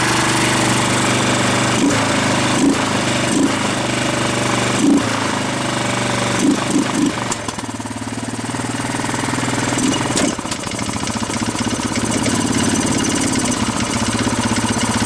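A Yamaha Grizzly 600 ATV engine idling steadily, loudly and too high up close after two years abandoned, with a rough, knocking mechanical rumble that continues without pause.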